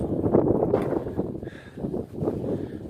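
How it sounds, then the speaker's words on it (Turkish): Steady, broad rushing wind buffeting the microphone in gusts, loud and continuous, with no voices. "Rüzgar"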